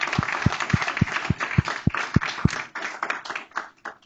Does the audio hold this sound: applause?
yes